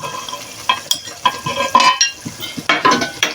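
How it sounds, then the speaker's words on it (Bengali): Onion, chilli, garlic and ginger paste masala sautéing in a pan for a pumpkin-bori vegetable dish, a steady sizzle broken by repeated scraping stirs and clinks of a spatula against the pan, close and fairly loud. "তো দেখো মশলাটা ভালো করে কষিয়ে নিচ্ছি"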